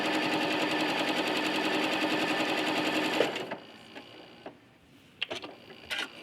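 A sewing machine stitches a log cabin quilt block, running in a loud, steady rapid rattle for about three seconds before stopping, followed by a few faint clicks and handling sounds.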